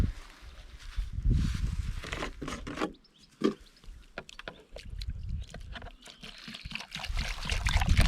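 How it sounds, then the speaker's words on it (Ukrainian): A ladle pours liquid nitroammophoska fertilizer solution into holes in a young orchard, giving splashing, trickling sloshes and clunks of the ladle and bucket, close by, in irregular bursts. "Буду кожну ямку наливати по одному такому черпачку."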